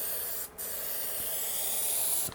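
Spray nozzle on a can of insulation adhesive for a van build sends out a steady, loud hiss in two long bursts, broken by a short pause near the start and ending abruptly.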